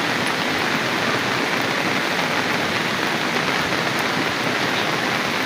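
Steady rain falls in a rural Konkan setting, producing an even, dense hiss of drops on surfaces that stays constant and fairly loud throughout, with no voices.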